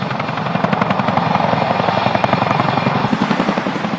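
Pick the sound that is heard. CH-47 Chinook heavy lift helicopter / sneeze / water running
CH-47 Chinook heavy lift helicopter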